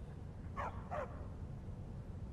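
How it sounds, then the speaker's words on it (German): A dog in Skyrim gives two short barks about half a second apart, moderately close, over a low, steady ambient game background. "Der Hund nervt ein bisschen."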